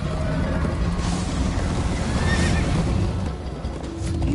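Horse neighing and galloping in Minecraft Story Mode, a continuous busy run of hoofbeats and whinnies with rushing wind-like noise, loud and steady throughout with no talking.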